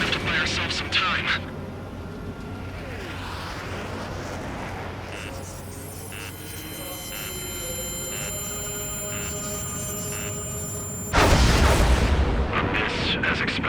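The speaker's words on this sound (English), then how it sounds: "It's some kind of energy weapon. No, it's a railgun." A railgun energy weapon fires in Ace Combat 7 over a steady jet-engine roar, ending in a sudden loud broadband blast.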